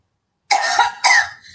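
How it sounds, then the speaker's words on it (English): Two quick, close coughs in a row, sharp and throaty, with silence before them. "I got one more cough"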